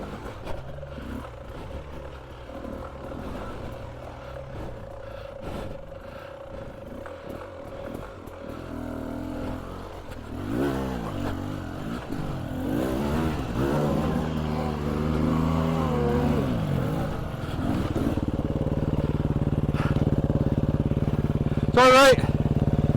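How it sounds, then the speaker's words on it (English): Enduro motorcycles spin their rear wheels and rev hard on a muddy climb, engines rising and falling in overlapping bursts that build toward a louder, sustained roar near the end. "Ah, you can hear everyone spinning up."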